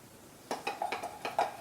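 Cornstarch watercolor paint mixture being stirred in a dish, giving a short run of light clinks and scrapes of a utensil against the container, several quick taps close by with no talking.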